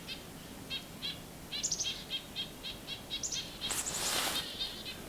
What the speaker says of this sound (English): Might have been a purple finch call